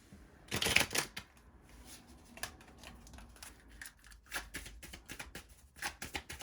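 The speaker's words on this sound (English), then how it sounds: "So what I'm going to do now is pull one of these Romance Oracle cards." Romance Oracle cards are shuffled and pulled, a quick flurry of riffling followed by softer slides, flicks and taps of the deck, close and quiet.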